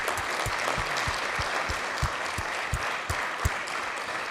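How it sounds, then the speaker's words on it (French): Steady crowd applause at the closing session of a forum in Lyon, fairly close and even, with a few sharper individual claps and thumps standing out through the dense clapping. "je vous invite à faire un grand applaudissement pour Muriel et son équipe"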